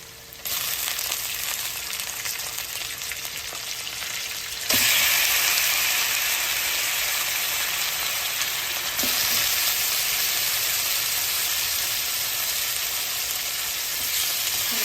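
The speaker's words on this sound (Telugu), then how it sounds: "కొద్దిగా పచ్చిమిరపకాయలు వేగిన తర్వాత కడిగి పెట్టుకున్న చికెన్ని వేయాలి" Chicken frying in a pan with green chillies gives a steady, close sizzle that jumps louder as more goes in, with faint stirring clatter and no voices.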